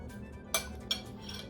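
Metal utensil scooping taco ravioli out of a pan to serve, giving two short, sharp clinks against cookware close by over a low background hum.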